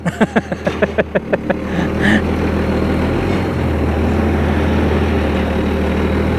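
A vehicle backing a trailer into place: a steady engine drone, loud and continuous, following a brief run of rhythmic knocking pulses at the start.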